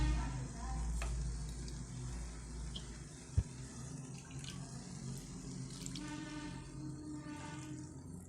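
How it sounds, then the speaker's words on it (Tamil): Water added to ground masala for a Chettinad capsicum-potato semi gravy sets off a steady sizzle in the pan, with a light pour and stirring, one brief sharp knock midway and no talking. "இப்போ நீங்கள் அரைச்சி வச்சுருக்க மசாலாவில் தண்ணி மட்டும் லைட்டாக சேர்த்துக்கிறேன்"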